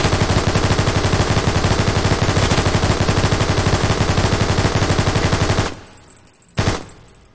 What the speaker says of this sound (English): This is an YQ42 LMG.